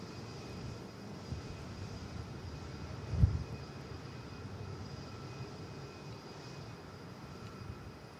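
A Lufthansa aircraft at Manchester Airport heard as a faint, distant steady jet rumble with a brief low thump near the middle, quiet and continuous, with no talk.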